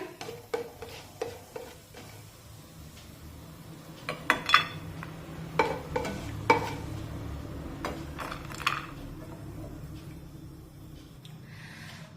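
Cashews and almonds being sautéed in ghee in a pan, heard as scattered clinks and scrapes of a utensil against the metal, with sharper clusters of hits midway and a low sizzle underneath.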